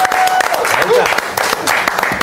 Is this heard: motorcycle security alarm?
no